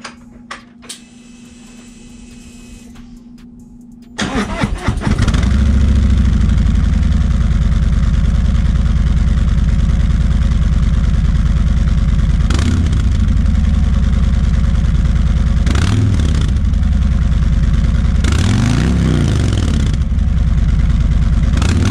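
A 2019 Harley-Davidson fitted with Vance & Hines 4.5-inch high-output slip-on exhausts fires up after a quiet start, settling into a loud, deep idle broken by several sharp revs.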